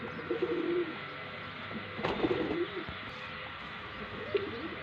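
Soft, low pigeon cooing in a few short bursts from pigeons perched at a tower in a Punjab village, against a steady background hum, with a brief sharp knock midway.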